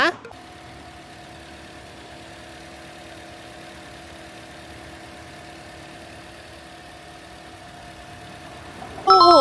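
A 2018 Toyota C-HR 1.8 Entry with automatic transmission idles steadily, a low, even hum heard from close by, with brief louder bursts of sound at the start and end.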